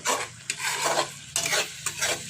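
A spoon stirring a spiced egg curry with chili powder, turmeric and ginger paste in a pan, several distinct scraping strokes over a soft sizzle, close and clear.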